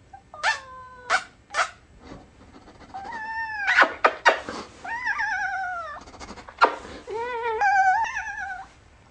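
A cat yodels in a run of drawn-out, warbling meows that rise and fall in pitch. The calls come close and loud in uneven bursts with short pauses between them, and no talk.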